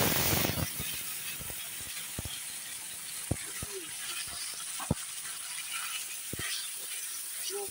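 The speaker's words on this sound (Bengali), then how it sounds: "মশলা এখন কষিয়ে নেব।" Dried red chillies, bay leaves and spices frying in hot oil for a cauliflower curry, a steady close sizzling hiss broken by a few sharp utensil clicks and taps.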